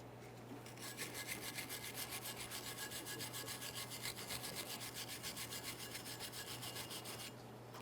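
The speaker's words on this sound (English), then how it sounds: "You can use some sandpaper or even a wire brush, whatever works best for you." Rust being scrubbed off a brake caliper bracket on a 2015-2019 Subaru Outback with sandpaper or a wire brush: a steady, rapid back-and-forth rasping that goes on for several seconds, close and fairly quiet, then stops near the end.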